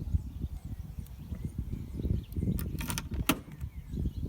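A Rover SD1 central locking unit actuating to open a door lock: a low mechanical whirr and rattle inside the door, with a few sharp clicks near the end, fairly quiet and close.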